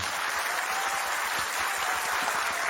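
A roomful of people gives a steady, dense burst of applause to welcome two guests back from a seven-night, ten-day, 31,000 km journey; the clapping is loud and continuous with no voices over it.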